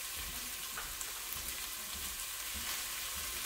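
Italian sausage and red pepper frying in olive oil in a skillet make a steady, close sizzle with soft crackles and a few stirring scrapes throughout, with no voices.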